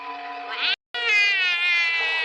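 Doraemon, a blue cartoon cat, lets out a drawn-out whiny meow, cut by a short silent gap and then continuing in a wavering, high tone, close and clear.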